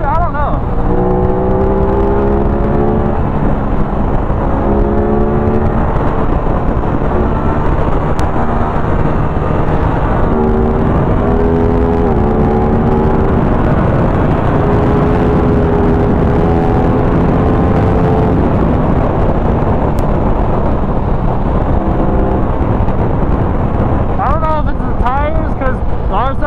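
An Aprilia RS660 sport motorcycle ridden hard, its engine revving loud and close with repeated rising and falling pitch sweeps through gear changes, steady wind rush underneath, and a rider talking over it.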